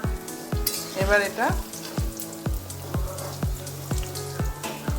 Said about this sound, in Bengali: এখন পনিরগুলো ভাজা হচ্ছে